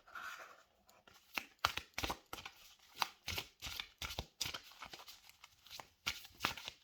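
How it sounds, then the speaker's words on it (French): Tarot cards shuffled by hand in a quiet room, a rapid run of crisp riffling snaps and soft slaps repeating in short bursts, close and fairly faint. "Je vais rebattre les cartes pour poser donc la prochaine question."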